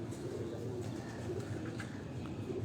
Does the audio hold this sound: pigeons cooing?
yes